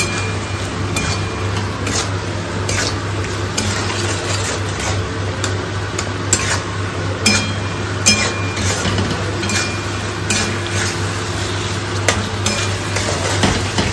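Potatoes and rice stir-fried with spices in a pan give a continuous close sizzle with a steady low hum, broken by frequent light scraping and clinking from stirring.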